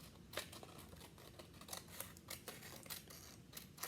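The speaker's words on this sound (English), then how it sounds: "I'm going to cut out my circle first." Scissors cutting out a paper circle for a parrot art project, with quiet, close snips repeating in an uneven rhythm throughout and no talking.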